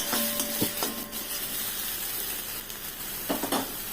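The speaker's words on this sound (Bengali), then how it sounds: "লঙ্কাটা দিয়ে দিলাম ওটাকে একটু ভাজা ভাজা করে নিচ্ছে" Paste of chili, ginger, cumin, onion and garlic frying in a pan for a rohu fish kofta curry, giving a continuous close sizzle with a few brief stirring clinks and scrapes.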